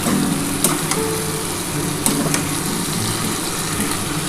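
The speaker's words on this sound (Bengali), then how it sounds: "খুব ভালো করে কিন্তু মশলাটা দিয়ে কষিয়ে নিতে হবে।" Taro stolons sautéing with spices in a pan with little water: a steady loud sizzle runs throughout, with occasional clicks and scrapes of stirring close up.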